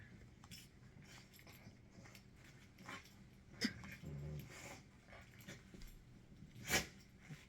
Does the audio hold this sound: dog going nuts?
yes